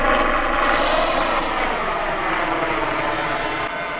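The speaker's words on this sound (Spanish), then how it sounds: "Ahí encendimos los motores, todo se ve bastante bien y vamos a despegar." LooLinn Z6-PRO beginner toy drone spinning up its motors for takeoff: a loud, steady, close whirring drone that holds throughout with a slight shift in pitch partway through, no voices.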